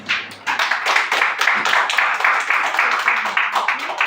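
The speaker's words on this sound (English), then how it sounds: "Let's have a round of applause." A small group at a Toastmasters club meeting applauds with brisk, steady clapping that continues throughout, close and fairly loud.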